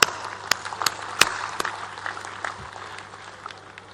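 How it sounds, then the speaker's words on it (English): Students applauding their leadership team, scattered sharp claps at the start over a dense wash of clapping that thins and fades over four seconds, with a steady low hum beneath. "Let us give, my dear students, our leadership team a huge round of applause"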